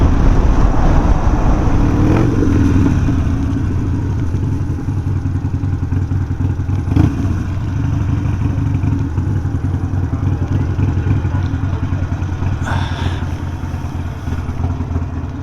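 Harley-Davidson Sportster motorcycles on a group ride, a loud, steady V-twin engine rumble at cruising speed close by, with wind buffeting and a few brief clatters over the continuous drone.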